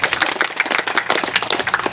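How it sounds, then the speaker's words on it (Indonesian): Applause for PT Freeport Indonesia at a mangrove-planting event themed "mangrove for life": a steady, dense patter of many hands clapping at moderate distance, continuous throughout without voices. "tepuk tangan pada PT Freeport"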